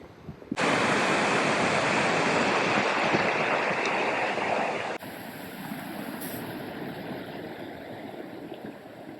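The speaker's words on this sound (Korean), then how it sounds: "여기는 확실히 좀 물살도 세고 여기가 엄청 깊습니다" A strong current of a deep mountain valley stream in Achimgari Valley, Inje, Korea, gives a loud, steady rushing roar that starts abruptly and shifts to a slightly softer, different wash partway through.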